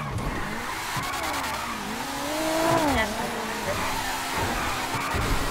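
A car drifts in the FiveM video game, its tires squealing in a sustained, wavering whine over a steady engine drone, rising and bending in pitch through the slide.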